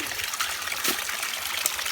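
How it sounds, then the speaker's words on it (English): Fresh mountain water pours in a soft, steady trickle, close and even throughout the short moment with no voices. "Water. Fresh mountain water."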